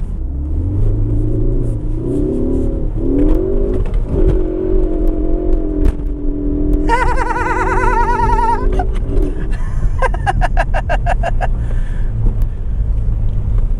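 A 2015 Ford Focus ST accelerating hard from a standstill to sixty, the engine note climbing through rising gear pulls with loud rumbling and wind buffeting, then a sharper high-pitched whine and rapid chattering bursts near the end.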